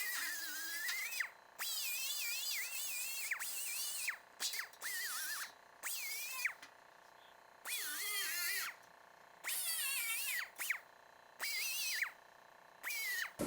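Butt weld on a Scout 800 fender being ground down, a power grinder whining in repeated bursts of a second or two separated by short pauses, close and fairly loud with no talking.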